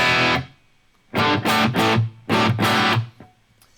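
Electric guitar played through a Line 6 Helix with spring reverb on a medley patch, heard as a short opening note followed by several loud strummed chords, each ringing briefly into a reverb tail, with no voices.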